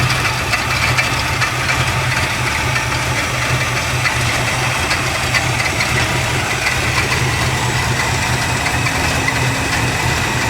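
Engine of a 1972 Dodge Dart with headers, idling a little low: a steady, loud, close rumble with slight knocking texture and constant vibration, heard alone without any talking.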